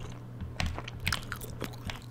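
Gum is chewed close to the microphone in an ASMR style, giving soft, wet, irregular smacks and crunchy bites with no talking.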